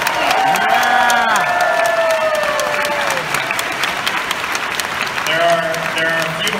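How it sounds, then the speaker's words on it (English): A large convention crowd breaks into loud, sustained applause with some cheering, while a voice speaks over the clapping throughout. "So I wanted a big round of applause for our staff."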